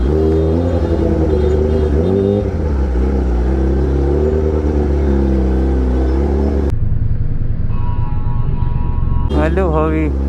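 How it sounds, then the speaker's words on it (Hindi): Road traffic fills a busy street with a loud, close engine hum that rises and falls as vehicles move. Voices call out over the motor noise. "ट्रैफिक तो है यार आज।"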